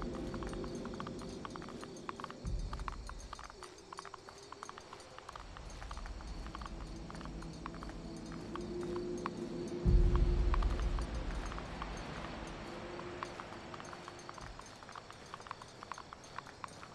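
Goat hooves clopping in the video game Mundaun, a steady run of hoof steps throughout with a heavier thump near the end, over a low ambient game drone.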